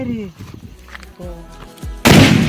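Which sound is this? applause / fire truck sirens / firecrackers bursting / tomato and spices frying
firecrackers bursting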